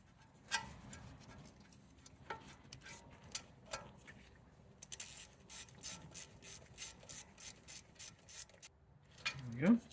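Close ratcheting clicks from tightening a T30 bolt that holds the front left ABS wheel speed sensor on a 2013-2021 BMW i3, with a quicker run of rapid ticks toward the end, quiet and without talk.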